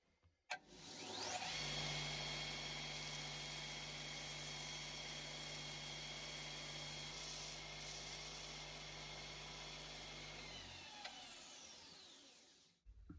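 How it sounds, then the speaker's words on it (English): A power sander grinds excess amber off a carving blank for a cat skull, a steady loud whine with stable tones that runs continuously for about ten seconds before spinning down. "I'm going to start it with the sander."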